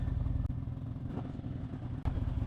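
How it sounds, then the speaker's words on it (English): A 2018 Harley-Davidson Street Glide rumbles along on the road, its engine chugging steadily and loudly from close by with a couple of brief dips. "I'm on a 2018 Harley Davidson Street Glide."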